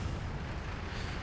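Explosions in a Wargame European Escalation battle, a dense continuous rumble of booms and blasts with no distinct pauses, steady and moderately loud across a brief stretch.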